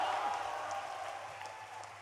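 Steady applause from an audience at a devotional poetry recitation at Bageshwar Dham, a continuous wash of clapping with crowd murmur that fades slightly toward the end.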